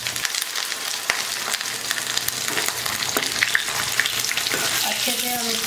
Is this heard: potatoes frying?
yes